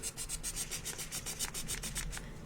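A sanding block rubs across MDF pieces of a laser-cut pumpkin patch craft, about a dozen quick, even back-and-forth rasping strokes, close and alone.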